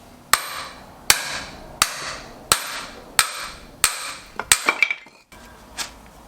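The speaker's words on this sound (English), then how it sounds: "this hammer is quite nasty on the ears" Sharp, loud hammer blows strike firewood in a steady rhythm, about seven heavy knocks followed by a quick flurry of lighter taps.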